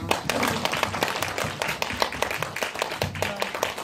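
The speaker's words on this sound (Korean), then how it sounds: "물 아래로 사라져주신 박 배우님께 박수 한번" An audience at a cinema talk event claps for an actor, a scattered, moderately loud round of individual hand claps with distinct sharp strikes throughout.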